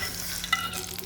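Ingredients dropped into hot oil for a tilapia and eggplant dish, a brief close sizzle with a stirring scrape and one sharp metallic tap.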